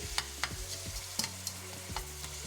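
Ground meat browning for chilli con carne in a hot pan, a soft steady sizzle broken by repeated scraping strokes of a utensil stirring and chopping, close and fairly quiet, with no talking.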